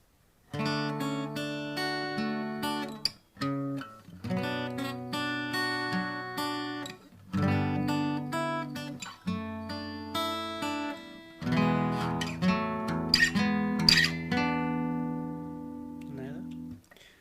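An acoustic guitar plays a song as a series of picked and strummed chord phrases separated by short pauses, clear and close with ringing notes and no talk.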